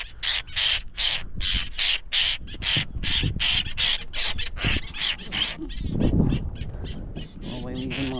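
A bird squawks after getting caught on a fishing lure while fishing, giving repeated harsh, loud crow-like caws in an irregular rhythm close by, with people talking excitedly alongside.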